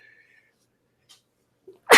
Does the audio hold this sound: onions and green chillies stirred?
no